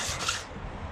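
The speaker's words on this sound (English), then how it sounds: "What you just take some sandpaper, get the sandpaper wet. What you do is just get down here, and just start rubbing." Wet sandpaper rubbed by hand over the oxidized painted surface of a jetski, a brief close rasping scrub with no speech.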